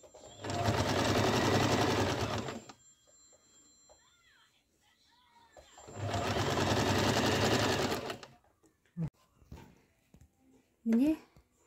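Sewing machine stitching folded fabric edges of flower patchwork pieces, two loud sustained runs of about two seconds each, close up, with someone speaking briefly in the pauses.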